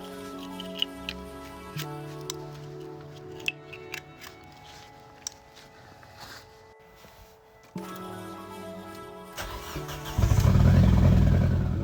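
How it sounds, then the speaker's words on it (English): An Audi A4 B6 engine with no exhaust and a misfire from a loosely plugged coil cranks and catches in stutters amid clicks, then roars up loudly and raw at the end. "It's misfiring because I didn't fully plug in coil 1, and of course there's no exhaust, but it runs"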